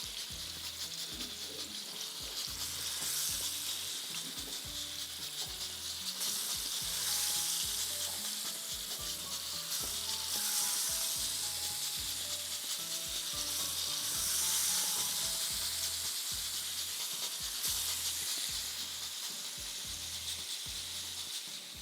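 Masala-coated fish fries in a shallow layer of oil, a steady close sizzle and crackle that holds for over twenty seconds without talk.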